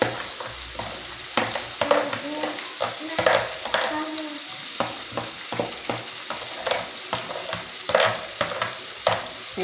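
Sliced carrots, fresh tomatoes and pepper fry and sizzle in a hot pan, with steady crackling and repeated scraping stirs from a utensil, close and fairly loud, with no talking.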